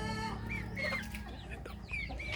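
Chickens cluck softly and irregularly while drinking water mixed with bird's eye chili, with short nasal calls rising nearby over a steady low hum.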